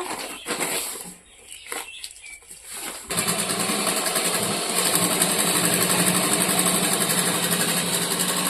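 Sewing machine stitching a bag made from a 25 kg rice sack, stuttering irregular bursts at first, then running continuously with a fast, steady mechanical chatter, the machine slightly jammed.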